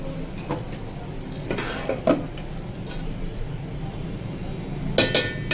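A metal spoon clinks against a pan while aloo gobhi is dished out, a few sharp clinks, the loudest pair near the end, over steady kitchen background noise.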